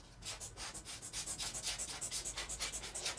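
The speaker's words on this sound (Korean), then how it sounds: "그래서 이렇게 마사를 넣어주고 있습니다" Gritty decomposed granite is added into a succulent pot with a quick, rhythmic rasping and rustling, soft and close, in steady pulses.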